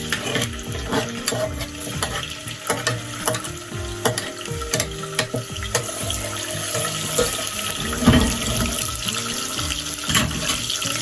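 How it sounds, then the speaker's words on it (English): Water is added to egusi in a pot and stirred, with sizzling and splashing, spoon scrapes and clinks, busy and close for the whole stretch, no talking. "your egusi, you are going to add water and mix"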